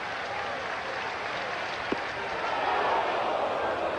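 Baseball stadium crowd at a Yankees home game against the Angels, a broad steady roar of cheering and applause hoping for a strikeout, holding throughout and swelling slightly toward the end.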